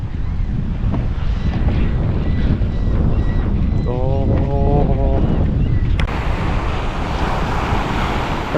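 Strong waves at a Miami beach roar beneath heavy wind buffeting on the microphone, a loud continuous wash with a brief voice sound midway.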